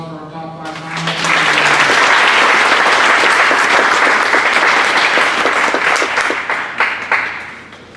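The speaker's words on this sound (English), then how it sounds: "Round of applause for our top 5 finalists." Loud, sustained applause from an audience honoring the top five finalists at a senior awards ceremony, rising quickly and holding steady before tapering near the end.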